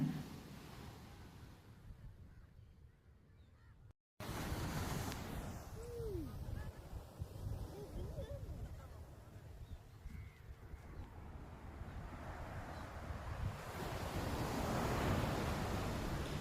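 Sea waves rumble and wash onto a beach in a continuous roar, building louder toward the end, with a few bird calls and a brief dropout.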